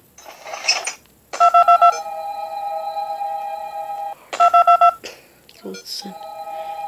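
Keypad beeps and long sustained dial tones from a phone call in the video game Five Nights at Candy's 2 repeat twice, each a quick run of beeps then a held tone, with a player talking between them.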